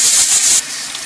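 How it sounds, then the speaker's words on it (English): Water from a kitchen tap splashes over a soup pot in a loud, steady hissing rush that drops to a quieter flow about halfway through the brief moment. "take this off the stove and put it under some cold water"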